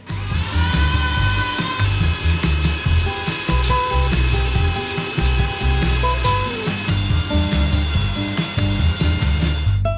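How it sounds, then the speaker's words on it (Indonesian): A meat grinder churns peanuts in a loud, continuous mechanical drone, with steady humming tones and rattling throughout and no talking. "Kita pindahkan kini penggiling daging."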